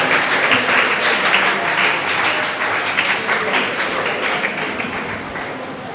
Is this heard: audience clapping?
yes